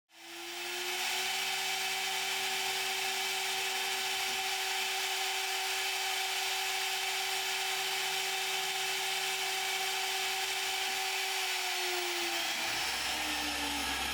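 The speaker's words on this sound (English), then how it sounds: "I'm using a 1mm end mill to engrave my logo." A benchtop milling machine (DMC2 Mini) engraving a logo with a 1mm end mill, giving a steady spindle whine with tonal hum that spins up at the start and winds down near the end, close and without voices.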